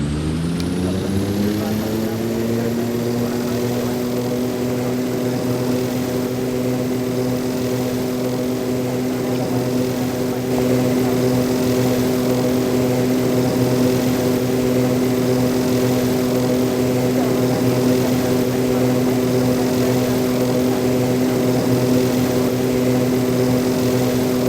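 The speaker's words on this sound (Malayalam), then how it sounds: "അപ്പോൾ നമുക്ക് പ്ലെയിൻ്റെ എൻജിനൊക്കെ കൊടുക്കുന്നുണ്ട്." Jet airliner engines spool up and run steadily before takeoff, heard from inside the cabin as a loud, continuous roar with a rising then sustained whine throughout.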